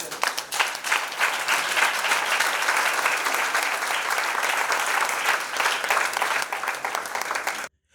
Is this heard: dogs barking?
no